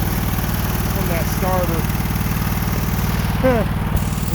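A car engine bogging down during a cold start, a low rough chugging drone throughout, with brief voices talking over it.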